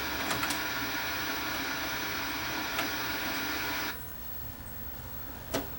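An Emerson TV-VCR combo unit under repair plays a tape with a steady mechanical whir and hum, which drops noticeably in level partway through, plus a few faint clicks.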